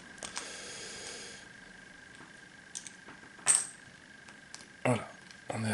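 Board game tokens picked up and flipped on a table: a few sparse, sharp clicks and small clacks close by, spaced apart with quiet between them and a faint steady hum beneath.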